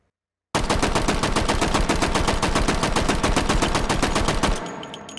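A gun fires at a fast, perfectly even cadence in H3VR virtual reality, roughly forty sharp close shots in one unbroken string lasting about four seconds. The shots then stop abruptly, followed by faint clicks, with no talking.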